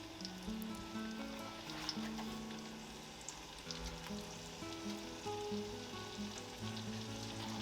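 Strawberries and a sugar mixture cook in a pan with a steady, close sizzle and soft bubbling that runs evenly throughout, with no talking.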